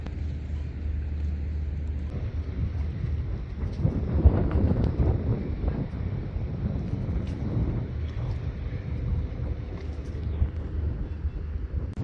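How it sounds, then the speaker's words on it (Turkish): Steady wind noise buffets the microphone on a boat off Las Palmas, Gran Canaria, with a broad rushing wash of wind and rain and a low rumble that swells briefly midway. "Ve yağmur da gelmeye başladı rüzgarla birlikte."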